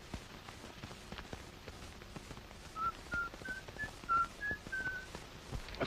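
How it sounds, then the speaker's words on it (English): Someone whistles "Yankee Doodle", a short, bouncy melody of quick separate notes, faint and a little distant, over soft background thumps. "Listen, somebody's whistling Yankee Doodle."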